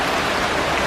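Steady rain falls outside on a late November day, a dense even hiss with no breaks, close and fairly loud, with no voices.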